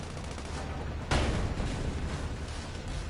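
Gunfire in the video game SandLand comes in as a sudden loud burst after a moment of steady rumbling noise, then continues as a dense rattling wash of shots and blasts.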